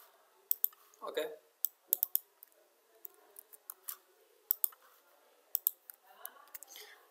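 Sharp computer mouse clicks on a website screen, scattered singly and in quick pairs, close and fairly faint, with a brief soft voice sound early on.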